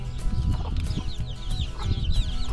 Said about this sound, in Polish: jak wygląda kwoka na odkwaczaniu